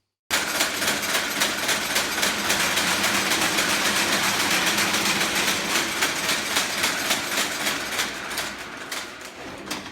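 Noisy jute mill machinery runs continuously at the Verdant Works in Dundee, making a loud, dense mechanical roar with a fast, steady rhythmic clatter throughout.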